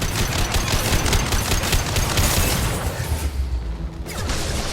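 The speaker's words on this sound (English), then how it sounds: "He's gunning down his own crew to keep control." Rapid automatic gunfire from a firefight in Mass Effect 2, dense sustained bursts with booming impacts, loud and continuous with a brief thinning near the end.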